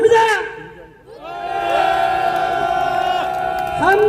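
A crowd at a political rally outside former president Park Geun-hye's private residence in Daegu Dalseo bursts into loud, sustained cheering and shouting. After a brief dip, a broad roar holds for several seconds and swells again at the end.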